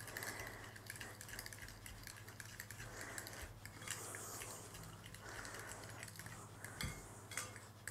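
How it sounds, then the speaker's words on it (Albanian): A spoon stirs egg and flour batter in a bowl, giving soft, steady scraping and faint clinks, quiet and close over a low background hum. "Dhe për t'i përzier të marrë lugën, pasi është më kollaj me lugë"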